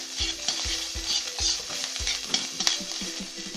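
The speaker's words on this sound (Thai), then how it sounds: "เราคั่วพริกแกงให้หอมก่อนนะครับ" Red curry paste stir-fried in hot oil for a Thai pork curry, with a steady close sizzle and repeated rhythmic scrapes of a spatula against the pan, no talking.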